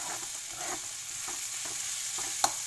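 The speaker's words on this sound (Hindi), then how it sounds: "ये थोड़ा सा ऐसे फ्राई कर लीजिए।" Sauce for American chopsuey fries in a pan with spice powder and is stirred, giving a steady hiss and sizzle broken by soft repeated scraping strokes and one sharp clink near the end. No one speaks.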